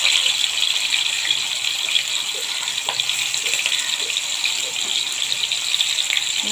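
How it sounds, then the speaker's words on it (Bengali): Shrimp fry in hot oil in a pan, giving a loud, steady hiss with light crackles running throughout. "এখন মাছগুলো প্যানের ভিতরে দিয়ে দেব।"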